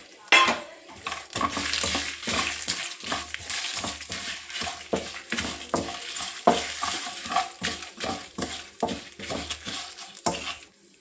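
Cumin, coriander seeds, sesame seeds and broken dried red chillies fry in a pan, with a steady crackling sizzle and repeated rhythmic scrapes and clinks of a spoon stirring against metal, close and continuous.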